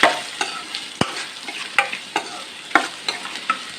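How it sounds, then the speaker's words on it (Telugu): Frying and stirring ingredients for egg curry in a pan, with irregular scraping stirs and sharp clacks over a steady sizzle, close and moderately loud. "యాడ్ చేసేసి ఫస్ట్ అయితే దీన్ని కొంచెం సేపు వేగిద్దాం"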